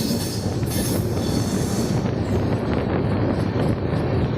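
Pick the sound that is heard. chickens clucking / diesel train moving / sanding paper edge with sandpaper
diesel train moving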